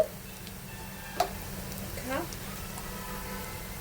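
Minced mutton kheema frying in a pan gives a constant low sizzle, with a sharp tick of a utensil and a brief scrape partway through. A voice may be faintly present.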